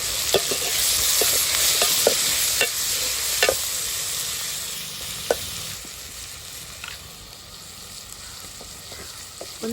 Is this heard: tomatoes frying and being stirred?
yes